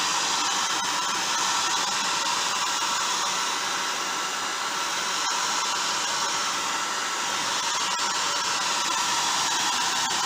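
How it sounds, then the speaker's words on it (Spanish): A hair dryer blows steadily over a wet landscape painting, a loud, unbroken rushing whoosh that fills the whole stretch without pause. "Vamos a pasar entonces el secador de pelo."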